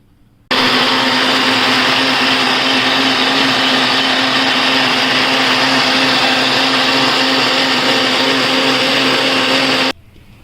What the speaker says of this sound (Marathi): हे दोन्ही मिक्सरला लावून घ्यायचं.